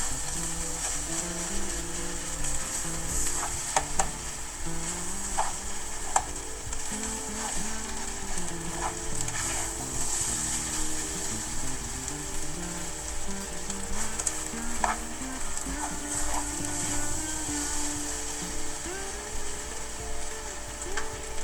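Warm rice tossed and stirred in a regular pan for spicy vegetable fried rice, a continuous close frying sizzle with repeated scraping and clinking of the spatula against the pan, no speech.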